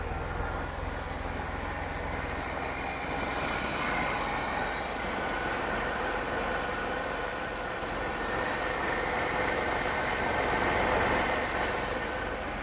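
A steady, broad rumble of a running Mercedes W126 engine fills the whole stretch, holding a constant level with a slight swell near the end.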